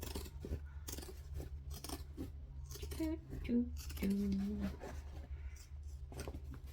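Sharp scissors cut through thick material for a bucket bag, giving a series of crunchy, close-up snips and scraping rubs of varying strength, with brief pauses between cuts.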